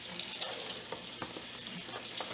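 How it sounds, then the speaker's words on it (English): Onions fry in a pan, giving a steady, bright sizzle with a few soft scrapes or stirring clicks over it, close and moderately quiet. "it sounds like the onions are starting to cook"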